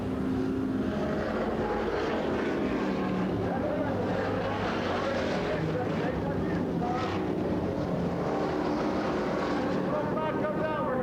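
Street stock race cars at Bernal Memorial Raceway in 1983, a continuous rumbling roar of engines from a main event, heard at a distance and steady throughout, with an announcer talking over it.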